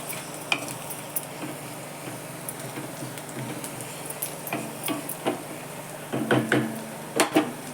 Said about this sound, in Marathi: कांदा परतू द्यायचा चांगला